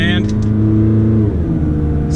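A McLaren 12C supercar engine revs up loud and near, then pitch drops sharply as the double-clutch gearbox snaps into the next gear and pulls again, with a voice speaking over it.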